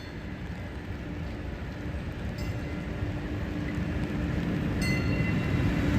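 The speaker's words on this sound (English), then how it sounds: "I can hear that, feel that train, like the vibrations go up through your shoes and your legs" A train passes close by as a steady, heavy rumble with rattling rail noise that builds slowly in loudness over several seconds, with no talk over it.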